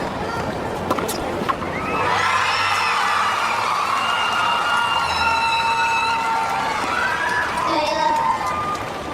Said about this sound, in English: We have a lot of Filipinos in the crowd cheering on their favourite